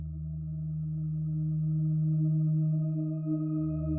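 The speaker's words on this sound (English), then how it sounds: "So that's just a simple sine wave." A steady, pure synthesized sine wave tone from VCV Rack holds for several seconds, smooth and unchanging, with no other sounds around it.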